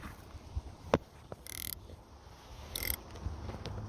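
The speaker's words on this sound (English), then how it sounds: "I'm gonna grab my 10mm ratchet combination wrench" A 10mm ratcheting combination wrench loosens bumper bolts on a Chrysler 300, giving two short, fairly quiet bursts of ratchet clicking with a faint knock between them.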